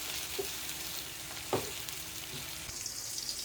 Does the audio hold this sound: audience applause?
no